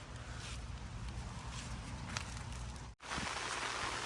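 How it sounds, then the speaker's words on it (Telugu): Sudden rain pours down on a farm with Korean ridge gourd vines, a steady dense patter close by that drops out for a moment near the end before resuming just as heavily. "వర్షం చూడండి సడన్గా స్టార్ట్ అయింది"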